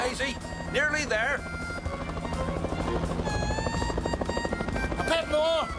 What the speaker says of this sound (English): It's the helicopter. Coming back.